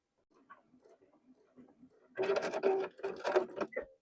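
A sewing machine stitches up the sides of a small fabric mini tote, a quiet stretch giving way to a loud burst of rapid mechanical running that stops and starts several times.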